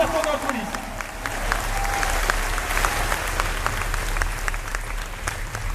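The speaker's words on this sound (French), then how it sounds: "on peut applaudir très fort Mathieu Poggi, Lenny Cherino, Flaubert et Va" A talk show studio audience applauds loudly and steadily for several seconds, dense clapping with some voices mixed into the crowd.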